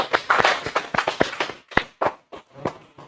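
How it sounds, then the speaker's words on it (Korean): A short burst of applause from a small group, claps sharp and uneven, thinning out into a few scattered claps by the end. "박수 한번 쳐줘야겠다."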